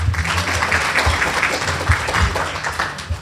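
An audience gives a steady round of applause for a military academy cadet at a public meeting, dense clapping from many hands with a few louder nearby claps.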